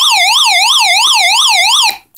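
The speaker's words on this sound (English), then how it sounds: "You do have a siren sound for any emergencies if you're stuck." A NOAA weather alert radio's built-in emergency siren wails loudly and close, rapidly sweeping up and down in pitch for about two seconds before cutting off abruptly.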